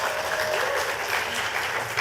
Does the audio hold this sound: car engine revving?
no